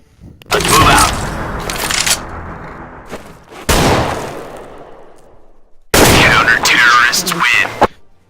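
Gunfire in the Counter-Strike video game: three loud, close sustained bursts of rapid shots, each trailing off into a ringing decay, separated by quieter moments.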